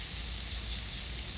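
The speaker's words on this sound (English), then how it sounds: "you can just sort of see and hear it sizzling away" Steady soft sizzling crackle of garlic frying in a pan, continuous and fairly quiet with no voices.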